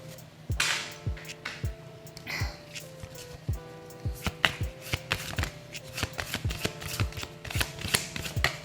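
Tarot cards are shuffled and dealt into piles, giving a steady run of sharp, close riffling snaps and soft slaps against a faint steady hum, with no voices.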